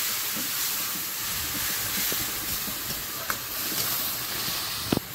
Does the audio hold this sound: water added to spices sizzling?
yes